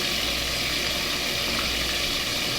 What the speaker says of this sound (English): Alright, so I'm finished frying these up